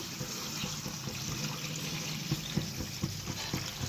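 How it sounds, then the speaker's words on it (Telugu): Water pours steadily into a pot for making upma, a continuous splashing rush close by with small clinks and knocks of the vessel, no voices. "దానికి 2 కప్పులకి నేను 5 కప్పుల వాటర్ పోస్తున్నాను"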